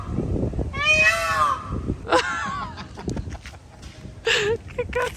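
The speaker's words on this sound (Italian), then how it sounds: "Avete mai sentito un pavone? Guardatene uno lì sopra. Ma senti che rumori fanno." Peacocks calling outdoors in Colombia, loud wailing honks in a few separate bursts, heard over nearby people talking.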